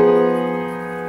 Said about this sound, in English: that's quite literally in music history called the Tristan chord